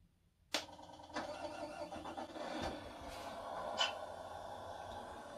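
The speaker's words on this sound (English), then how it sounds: "So we'll just start the engine." A 1/14 scale RC truck's simulated engine sound kicks in with a sharp start, then settles into a low, continuous rumbling idle with a few clicks and small bursts, quiet and close.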